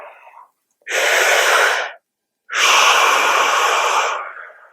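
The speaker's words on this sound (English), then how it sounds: "Take a deep breath." Two long, loud breaths, each a drawn-out inhale or exhale of about a second and a half to two seconds, close to the mic with a short pause between them and no talking.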